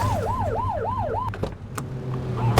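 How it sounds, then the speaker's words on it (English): A police car siren in the video game The Precinct wails loudly in about four rising-and-falling sweeps, then cuts off, leaving a low engine hum and a few clicks. "Get on their tail and flip the siren."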